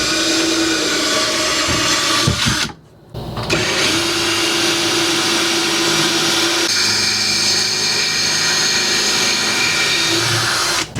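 A power driver whirs loudly and continuously as a screw is driven up into a motorhome kitchen counter, with one short stop and restart.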